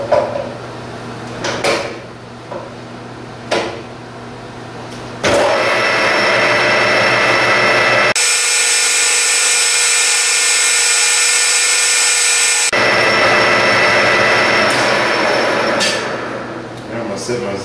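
A lathe running under power feed while cutting a tube gives a steady mechanical motor hum with tonal whine, swelling into a louder, harsh broadband cutting stretch in the middle before settling back to the running hum.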